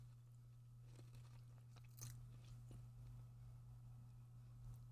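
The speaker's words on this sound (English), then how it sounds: "They are crunchy and you can probably hear me eating them." Quiet crunching and chewing of a crisp snack, a few sharp bites over a steady low hum.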